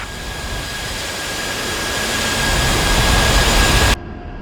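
Twin jet engines of an A-10C spooling up for takeoff in a flight simulator, a steady loud roaring whine that builds gradually before cutting off abruptly near the end.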